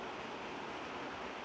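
A waterfall in a shaded outdoor spot gives a steady, broad rushing roar of falling water, constant and fairly loud with no voices.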